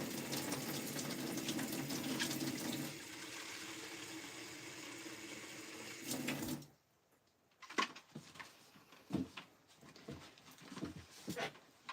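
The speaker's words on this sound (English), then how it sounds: "Let me just get some water in my spray bottle" Tap water runs steadily into a spray bottle, a broad continuous rush for about six seconds that stops abruptly, followed by quieter intermittent knocks and handling sounds close by.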